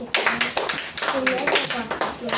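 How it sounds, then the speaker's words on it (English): Children in a church Bible-lesson group clap for themselves, a short burst of close, uneven hand claps with voices talking and calling out over them. "Clap for yourselves."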